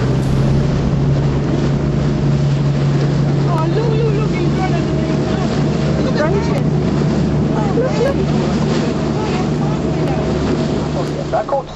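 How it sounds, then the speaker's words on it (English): A boat engine drones steadily while water rushes past the hull and wind buffets the microphone throughout, off Christchurch, New Zealand. "when the boat's moving through the water like this, it's pushing water along them"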